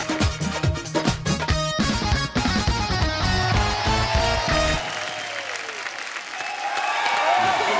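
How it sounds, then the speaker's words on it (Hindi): Studio audience applause on an Indian television comedy show as guests are welcomed, full crowd clapping under loud, rhythmic band music that cuts off midway, leaving the applause ringing on alone. "जोरदार तालियां हो जाए एक बार।"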